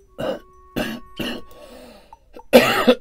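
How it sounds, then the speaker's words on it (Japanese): Several harsh coughs close to the mic: three quick bursts in a row, a pause with faint noise, then two more heavy coughs. "なんか咳悪化してるよな"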